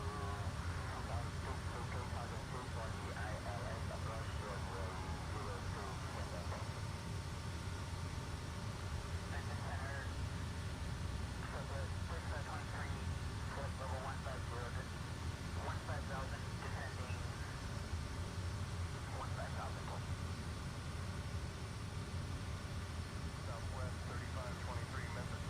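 A Kodiak 100 in Microsoft Flight Simulator 2024 keeps up a constant, fairly quiet engine drone. Faint speech-like bits come and go beneath it.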